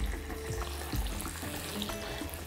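Floured chicken drumsticks frying in a pan, a steady close crackling sizzle with small pops throughout and no voices.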